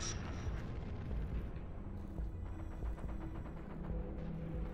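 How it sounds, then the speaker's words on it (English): A sticky grenade goes off in the Rogue Trooper video game, a loud, sustained rumbling blast with deep low-end roar that fills the whole few seconds without a clear break. "That is what happens when I throw a sticky grenade at you."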